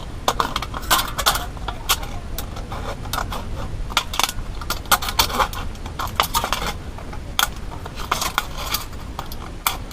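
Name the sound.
cutting up an aluminum can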